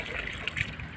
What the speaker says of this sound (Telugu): ముఖం కడుకో.